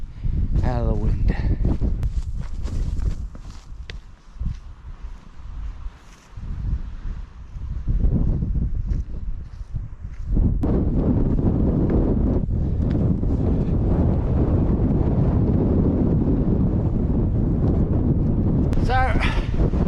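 Strong wind buffets the microphone on a Ben Lomond summit in Tasmania, loud, gusty and roaring, easing briefly in the middle before blasting steadily again, with a voice speaking over parts of it.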